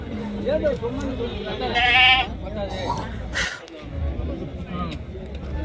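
Goats bleat repeatedly at a goat market in Galivedu, some close and loud, others further off, over a steady murmur of people talking nearby.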